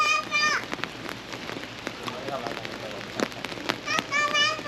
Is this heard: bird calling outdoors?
no